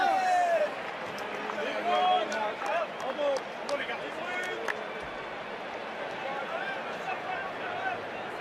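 A stadium crowd at the Cape Town rugby sevens makes a diffuse, distant murmur with scattered cheers and a few whistles, while someone talks over it in the foreground.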